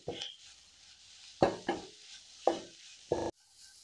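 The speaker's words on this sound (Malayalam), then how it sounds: "ഇതെല്ലാം കൂടെ നന്നായിട്ടൊന്ന് വഴറ്റിയെടുക്കാം." Biryani masala with black pepper powder is sautéed in a pan for an Idukki-style kappa biryani: a faint sizzle under several distinct spatula scrapes and stirs against the pan, close up and without talk.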